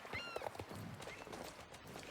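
Video game horse hooves clop on a hard surface in a short burst, with a brief whinny-like call near the start, mid-distance.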